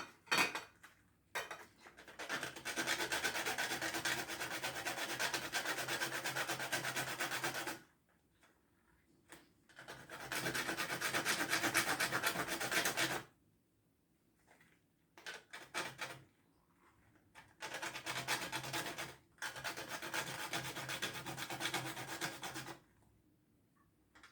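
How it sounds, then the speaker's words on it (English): Fresh whole nutmeg grated by hand in a kitchen, giving bursts of dry rasping and scraping, each lasting several seconds, separated by short pauses, close and steady with no talking. "So I'm gonna grate some nutmeg right here."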